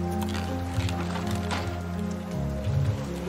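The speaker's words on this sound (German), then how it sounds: "Jetzt regnet es auch noch." Rain falls in the survival game Raft, a steady close patter on surfaces running the whole time, with low game sounds underneath.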